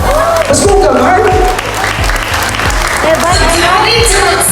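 Wedding guests applauding for the bride and bridesmaids, a loud, continuous clapping wash with a voice speaking over it throughout.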